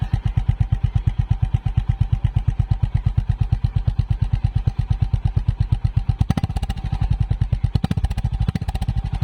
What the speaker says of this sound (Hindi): इस बाइक का जो फोर्थ प्रो है वो है इस बाइक का साउंड।